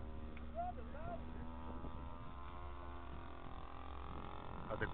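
A small airplane engine running at half throttle in a flight video game, a steady low droning hum with wind-like rush held evenly throughout, while people talk over it.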